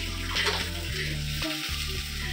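Food fries in a home kitchen with a steady, close sizzling hiss. A constant tonal drone sits behind it, and there is no talking.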